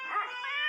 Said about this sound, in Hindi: वो रही जेनिफर और उसके साथ एक कुत्ता और बिल्ली भी है।